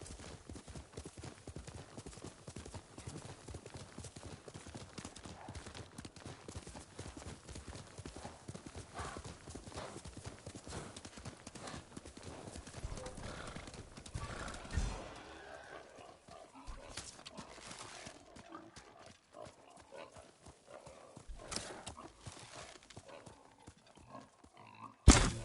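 Kage, a horse in Ghost of Tsushima, gallops in a rapid, continuous rhythm of hoofbeats for about fifteen seconds, then slows to scattered, quieter steps, with faint game ambience behind.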